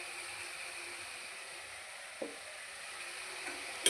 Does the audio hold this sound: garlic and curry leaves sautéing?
yes